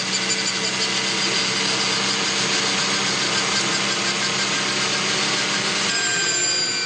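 A race car engine screams at high speed around the Le Mans circuit, a dense, sustained high-pitched whine heard from onboard with no letup, shifting slightly near the end.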